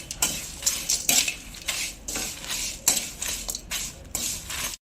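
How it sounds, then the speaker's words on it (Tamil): Whole spices for garam masala, including star anise and a nutmeg, are dry roasted in a pan on low flame, giving repeated rattling, scraping stirs and clinks of spoon against metal in uneven bursts. "நல்லா அடுப்பை சிம்மில் வச்சுட்டு பொறுமையாக வறுத்து எடுத்துக்கலாம்."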